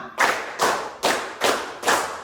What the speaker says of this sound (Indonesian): Tepuk satu, tepuk dua, tepuk tiga, tepuk empat, tepuk lima